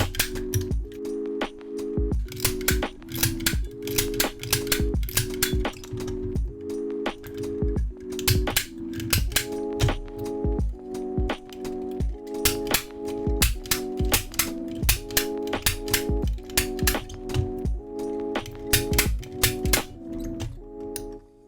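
Lock pick snap gun firing in a demo, giving sharp, loud, close clicks that repeat in a steady rhythm over tonal background music, with no talking.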